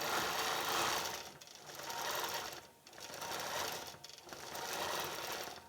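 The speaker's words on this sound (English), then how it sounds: "Ready to go ahead and start quilting." A sewing machine stitching quilting through fabric, a steady rapid mechanical hum and chatter that runs in long bursts with brief slowdowns between, close and loud with no talk.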